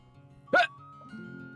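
A single sharp hiccup during an online fishing game, loud and close, with quiet game sounds around it.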